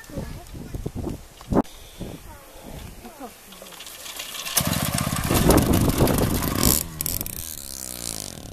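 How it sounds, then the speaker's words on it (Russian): A small moped engine runs nearby, starting quiet amid scattered voices and then swelling into a steady, buzzing drone that grows louder and rougher toward the end. "Необычный такой мопедик получился"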